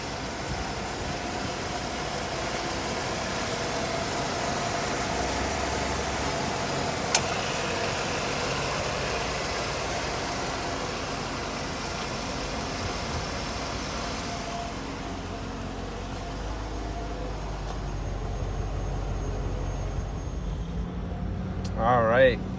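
A 1993 Ford Bronco's engine runs at a steady idle, a low even hum with faint mechanical ticking, holding constant before a brief rise in rumble and a short noisy clatter at the end.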